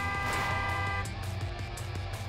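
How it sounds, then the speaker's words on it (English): Truck horns blaring in the Clustertruck video game, loud sustained honks layered over rumbling engines and a continuous dense mix of game noise, with no speech. "Lots of honking here."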